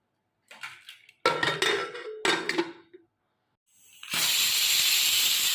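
A pressure cooker cooking jackfruit with turmeric, salt and water lets out a loud, sustained hissing steam whistle after a few clattering kitchen sounds and a short pause.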